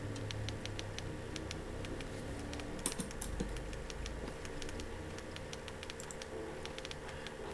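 Keys are typed in a quick, uneven patter of light clicks over a faint low hum, close and quiet, with a few louder strikes partway through and no talking.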